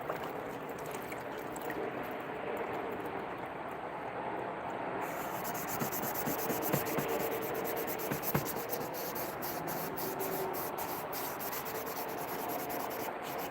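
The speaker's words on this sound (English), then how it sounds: "And today, I just want to come out here and do some sanding." Slings being hand-sanded outdoors, a steady soft scratchy rubbing that continues throughout at low volume, with a few sharper scrapes midway and no voices.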